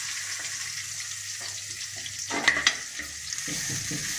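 Onions dropped into hot oil after mustard seeds have popped, sizzling steadily with a brief louder burst of frying and stirring midway, close to the pan.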